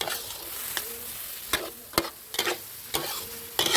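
Pork and egg sizzle steadily in a hot wok while a utensil scrapes and clacks against the metal in irregular strokes, close by.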